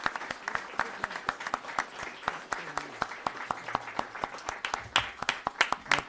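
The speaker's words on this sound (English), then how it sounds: "So could I have a please, nice round of applause." Scattered clapping from a small audience at a town board meeting, distinct individual claps in an uneven rhythm, with faint voices murmuring underneath.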